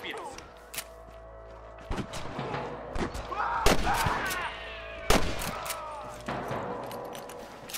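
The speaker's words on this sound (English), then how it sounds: "I can hear more gunshots." Sharp gunshots ring out in Red Dead Redemption on PS3, about a dozen loud cracks fired irregularly, some close and some farther off, with voices shouting between them.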